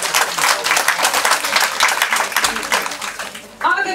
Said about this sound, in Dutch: Mag ik een groot applaus